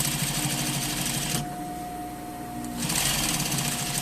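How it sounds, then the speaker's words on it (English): A sewing machine does understitching 1 mm from a seam, running at a fast, steady stitching rhythm close by, easing off slightly in the middle before speeding up again. "you're going to do your understitch at 1 millimeter from your seam"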